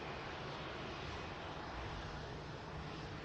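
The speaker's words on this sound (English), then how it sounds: "the Gulf Air taxiing past the runway visitor park" A Gulf Air airliner taxiing at Manchester Airport past the runway visitor park, heard as a loud, steady, broadband jet roar that holds at one level throughout, with no talk.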